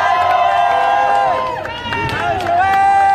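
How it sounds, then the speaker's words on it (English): Studio audience at a game show on the LA Auto Show floor cheers and hollers steadily over a loud crowd, with overlapping voices and shouts throughout. "Cheer her on."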